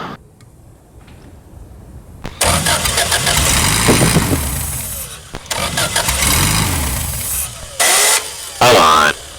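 An air-cooled VW engine on a Sonex aircraft cranking and catching, then running loud and rough close by with uneven surges before cutting out, with voices heard around it.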